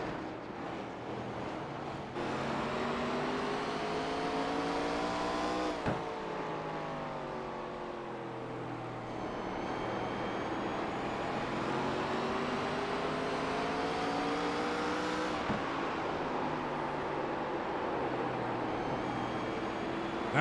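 ARCA race cars roar around Irwindale Speedway, a loud, continuous engine drone whose pitch climbs steadily and drops sharply at each shift, heard close with wind rush and no talking.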